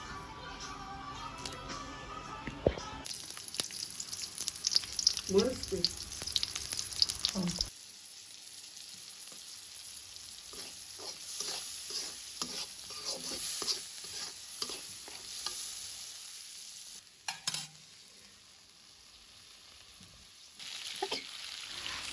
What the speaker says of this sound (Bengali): পেঁয়াজ, কাঁচামরিচ, তারপরে হচ্ছে তেল দিয়ে কিছুক্ষণ ভাজলাম, তার মধ্যে চিংড়ি মাছ দিয়ে দিলাম